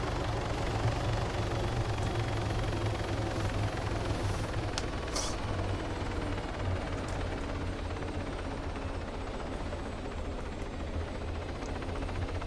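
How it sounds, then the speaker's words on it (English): A helicopter in the video game Modern Warfare 3 drones steadily and loudly with a constant low rotor rumble throughout, with no talking over it. "Dimitri, I think you bought the wrong heli, bro."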